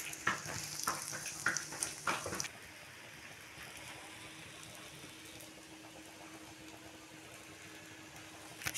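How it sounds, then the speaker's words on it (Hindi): An omelette with onion, green chilli, coriander, salt and chilli powder fries in a pan, opening with a few utensil clatters before settling into a steady, close, low sizzle. "ये आमलेट बनाया मैंने इसमें प्याज है हरी मिर्चियाँ और धनिया और नमक मिर्च डाली है"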